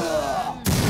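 An explosion goes off in a Roblox game: a tonal in-game sound fades and drops out, then a sudden loud burst of noise hits and holds to the end.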